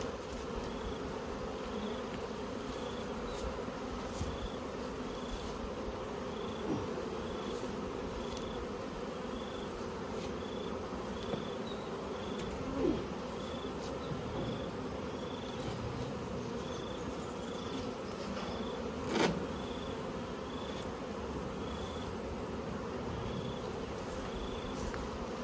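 Honey bees buzzing around Crossmaglen beehives as the hives are moved, a steady dense hum of many bees close by, with a few soft knocks and clunks scattered through.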